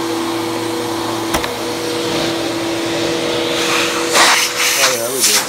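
A Bissell vacuum cleaner, under repair for a brush roller that would not spin, runs with a steady whine and hiss while its suction is tested, with people talking over it.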